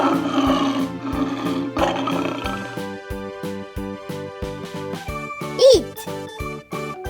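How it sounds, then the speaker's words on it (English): A lion's roar sounds briefly amid a cheerful children's vocabulary tune with chiming notes and a voice speaking. "Lion."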